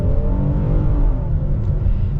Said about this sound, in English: let's get our little acceleration here with the Palisade